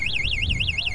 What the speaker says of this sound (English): it has this pretty loud alarm